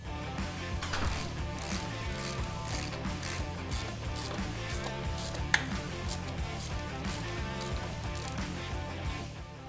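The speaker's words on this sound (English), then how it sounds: "I like using a ratchet" A ratchet working loose the shock bolts on a Harley-Davidson Sportster Low motorcycle, rapid continuous clicking of the pawl in a close, steady stream with brief pauses, no talk over it.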